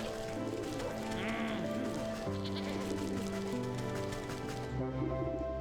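A sheep bleats in the Wytchwood video game over constant game music, with the wavering bleat standing out near the start.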